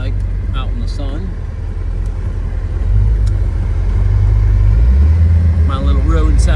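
Engine of a 1966 Pontiac LeMans convertible rumbling low and steady as the car pulls in and slows, growing louder partway through, while someone talks over it.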